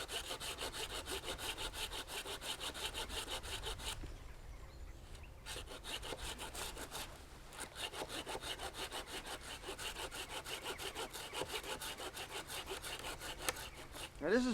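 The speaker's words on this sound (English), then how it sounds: "you want to be cutting up from the underside" Bahco Laplander folding saw cutting through freshly cut green wood, rapid rhythmic rasping strokes held steady for most of the stretch with two short pauses, close and without talk.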